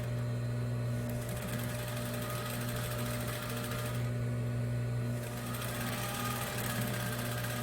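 A sewing machine stitches the seams of a Christmas cushion, a loud continuous close motor hum with a brief slowdown around the middle, no one speaking.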